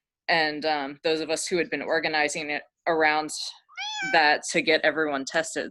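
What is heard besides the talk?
cat meowing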